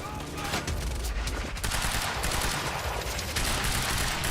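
Dense, continuous gunfire in the video game Quantum Break, rapid overlapping shots forming a loud, sustained barrage with no pauses.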